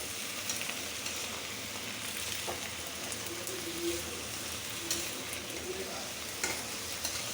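Mixed vegetables (papaya, potato, carrot, cauliflower, cabbage) frying in oil for vegetable khichuri, a dense steady sizzle with ongoing stirring and occasional clinks, close and without talk.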